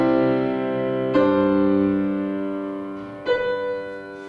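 A sustained chord holds with one voice suspended as a non-chord tone, then a fresh attack resolves it into the chord, and a second change follows near the end; the notes ring alone and clearly, with no talking.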